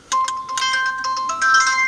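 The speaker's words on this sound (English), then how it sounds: "That's my alarm." An alarm ringtone goes off in a workshop, a series of bright electronic tones and beeps repeating steadily, clear and moderately loud with no talk.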